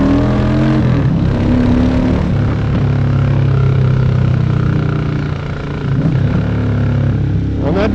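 Loud motorcycle engine revving up close on a sunny day, a throaty roar rising and falling in pitch with a brief dip before surging again, no talking over it.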